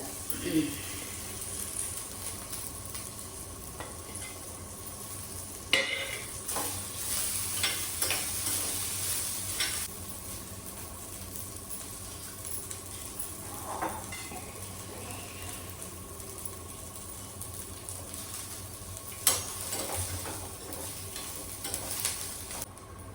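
Ginger pieces, curry leaves and coriander sizzle in hot oil for a tempering for curd rice, a steady close hiss with a few sharper stirring clinks and scrapes along the way.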